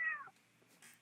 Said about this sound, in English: Which I heard another kitty.